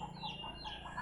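Backyard chickens on a grassy plot cluck in soft, overlapping calls, fairly quiet and steady, with no one speaking.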